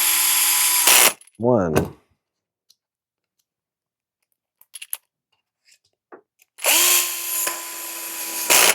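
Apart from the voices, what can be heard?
power drill tightening screws on Reve-D RDX RC chassis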